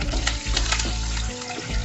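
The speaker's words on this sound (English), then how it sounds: "Wait until the mustard and cumin seeds sizzle." Mustard seeds, cumin seeds and curry leaves sizzle and crackle loudly in hot oil for a bhindi recipe, a dense close-up hiss with sharp popping bursts and faint stirring.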